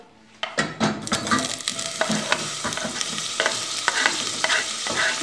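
Chopped onion dropped into hot olive oil for a shrimp bobó, hitting with a burst of sizzling and then crackling steadily while a spoon scrapes and stirs in repeated close strokes, loud and near with no talking.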